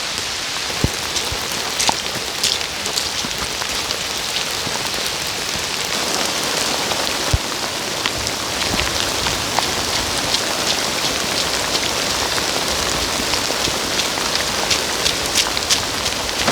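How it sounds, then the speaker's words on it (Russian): Heavy rain pours steadily through a forest, a dense continuous hiss of drops striking leaves and ground, loud and close with scattered sharper drips and no voices. "в ливень попали просто"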